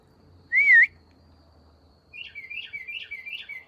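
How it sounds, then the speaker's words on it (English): A bird in the woods gives one loud, clear whistled note, then after a pause a quicker run of softer, repeated chirping phrases, close and alone in a quiet setting. "Yeah, there's a bird in the woods."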